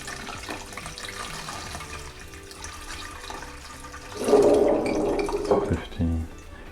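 Liquid is poured through a filter during tea-making, a splashing, trickling gush that rises partway through and lasts a couple of seconds, following a stretch of quieter background sound.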